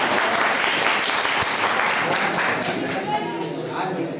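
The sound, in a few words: classroom clapping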